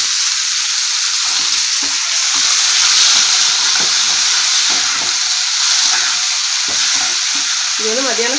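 Tomato, onion and garlic sautéing in a pan, a steady loud sizzle and hiss with occasional stirring scrapes throughout.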